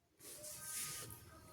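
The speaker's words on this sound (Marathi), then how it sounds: "फोडणी द्यायची होती चिकनला." Chicken dropped into hot oil for tempering sets off a sudden bright hissing sizzle that swells and holds for about a second, then settles into a softer crackle.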